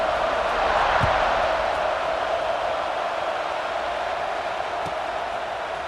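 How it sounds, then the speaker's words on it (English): Steady stadium crowd murmur in the EA Sports College Football 26 video game, a constant broad wash with a brief swell of cheering near the start, heard alone without commentary. "this crowd is buzzing after that last score"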